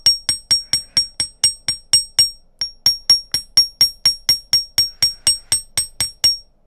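Repeated hammer strikes shaping a metal piece for a graduated crystal champagne necklace, about two dozen sharp, evenly spaced ringing taps close by with one short pause midway, no talking.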